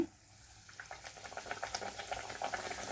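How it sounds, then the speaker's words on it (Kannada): Badam puri dough drops into hot oil and fries with a steady, dense crackling sizzle, bubbling lightly and building slightly in loudness, close and with no talk. "ಎಣ್ಣೆ ಕಾದಿದೆ. ಇವಾಗ ಹಾಕ್ಕೊಳ್ತಾ ಇದ್ದೀನಿ."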